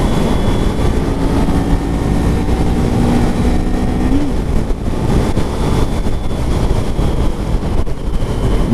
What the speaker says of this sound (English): This sucker is gutless. Absolutely gutless. 4th gear. Here we go.